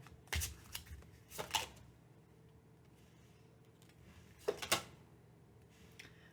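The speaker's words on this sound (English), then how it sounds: "and I'll shuffle again for you." A deck of tarot cards is shuffled close by. Three quick riffling bursts are separated by quiet pauses, with soft handling noise in between.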